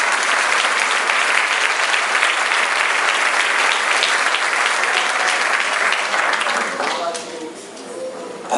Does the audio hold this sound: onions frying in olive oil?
no